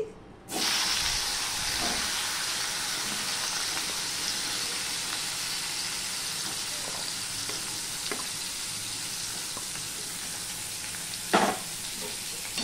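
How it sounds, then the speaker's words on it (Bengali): Raw banana pieces fry in hot oil with a steady, close sizzle and hiss that begins abruptly and holds evenly throughout, with a few brief louder spits and stirs. "তেলের মধ্যেই আমি কাঁচকলাগুলো দিয়ে দিচ্ছি।"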